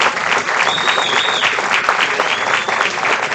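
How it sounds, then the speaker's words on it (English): A baseball crowd at a veterans' game applauds, with steady, dense clapping that fills the whole stretch and stays loud from start to finish. "get a little round of applause for all the veterans here"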